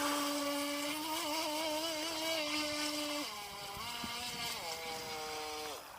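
A Skytech H100 RC boat's water-cooled motor runs on the water with a steady buzzing whine that shifts pitch a few times as the throttle changes, fairly close and continuous.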